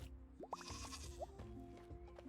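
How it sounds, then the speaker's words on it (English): Goat, called an ibex, bleating in the farming video game Roots of Pacha: several short rising bleats, close and clear over soft game music, with no talk. "Trying to talk with this goat here."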